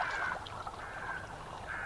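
Birds calling over a quiet meadow with a stream nearby, a steady layer of cawing, crow-like cries hanging over constant outdoor background noise, fairly distant and continuous, with no one talking.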